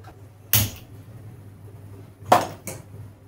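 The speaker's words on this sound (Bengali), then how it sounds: "একটা কড়াই চাপিয়ে দিয়েছি।" A metal kadai set down on a gas stove gives a sharp clatter, followed by two more quick clanks a moment later, close by over a low steady hum.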